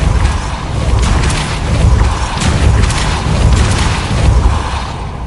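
Depulso spell impacts crash continuously in Hogwarts Legacy combat, mixed with Glacius casts, forming a dense, loud wall of booming, clattering hits and rumbles with no pause.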